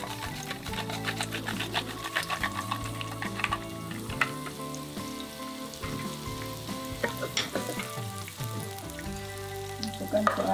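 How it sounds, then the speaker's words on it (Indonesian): Lemongrass and thinly sliced shallots sautéing in a pan, a continuous sizzle with busy clattering stirring and scraping strokes throughout, fairly close and steady for the whole stretch. "Sekarang kita mau tumis terlebih dahulu serai dan bawang merahnya."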